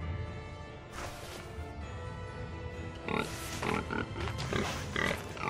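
Pig noises in the video game Tales of Zestiria during a pig hunt, a series of grunts and oinks mixed with thuds and crashes, growing busier and louder in the second half.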